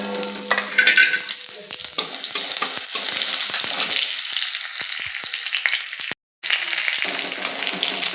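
Garlic drops into hot oil already crackling with cumin and mustard seeds, giving a loud, continuous sizzle with stirring clinks and scrapes and a very brief dropout near the end.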